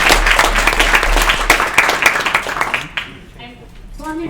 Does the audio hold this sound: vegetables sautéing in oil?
no